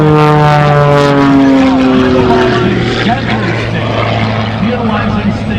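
An aerobatic propeller airplane performs at an airshow, its loud engine note sweeping downward in pitch as it passes close overhead, then droning on more steadily as it pulls away.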